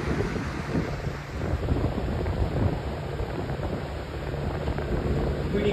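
Rushing fresh water from Dunn's River waterfall in Jamaica, heard from a tour boat as a steady, close roar mixed with wind buffeting the microphone.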